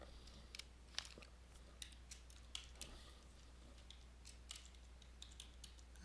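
Typing on a computer keyboard, faint scattered key clicks in irregular bursts, close but quiet, with a low steady hum underneath.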